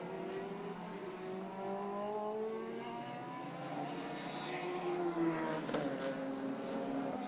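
Dallara F3 and modified Formula Renault single-seater race cars lapping on a circuit, a steady whining engine drone with shifting pitch that rises slightly as a car draws nearer, fairly distant and continuous.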